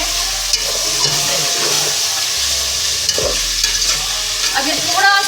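Garlic fries in a pan over high heat while a utensil stirs it, giving a loud, steady sizzle with scraping stirring strokes throughout and no talking.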